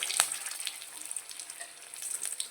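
Soft, steady sizzling of curry leaves and dried red chillies frying in hot oil, faint and close, with a few brief crackles and no voices.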